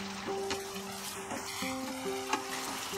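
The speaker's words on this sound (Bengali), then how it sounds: "এবারে আমি ফ্লেমটাকে বাড়িয়ে দিয়ে মাংসটাকে আরেকটু কষিয়ে নেব।" Chicken being stir-fried on a high flame in a pan, a steady close sizzle with occasional scraping stirs and a few faint tonal hums running through it.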